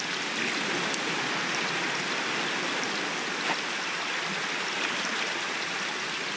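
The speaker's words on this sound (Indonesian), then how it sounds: "Ombak lagi besar, guys ya." Steady ocean waves in the survival game Raft wash continuously at open sea, a dense even rush of water with no gaps or speech.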